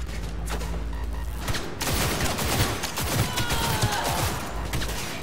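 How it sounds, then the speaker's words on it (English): Sustained rapid gunshots from a firefight in Cyberpunk 2077 during the Corpo storyline, a dense crackling volley that sounds somewhat distant and subdued at moderate level, with a low hum beneath. "Heard shots."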